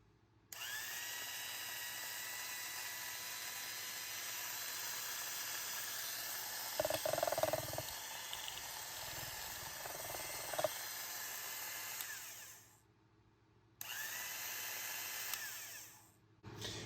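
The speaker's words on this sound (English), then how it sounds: "now I'm going to engage the drill" A vintage Black & Decker drill driving a jigsaw attachment whines continuously for several seconds with a high steady hiss, briefly rattling under load, then stops, restarts, and cuts off.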